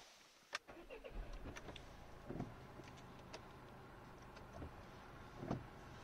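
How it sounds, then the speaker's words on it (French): A DS5 car engine cranks and catches, settling into a low idle rumble; faint clicks and knocks around it, quiet and somewhat distant. "Et maintenant on peut venir démarrer le véhicule."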